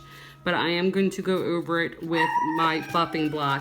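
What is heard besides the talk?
dogs barking at the trash man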